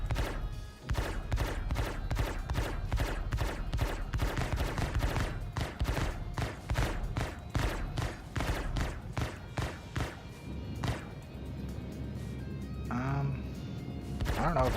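Rapid, rhythmic weapon fire from the space game Star Citizen, loud repeated shots in a steady burst pattern through most of the stretch, easing off toward the end, with voices talking at times over it.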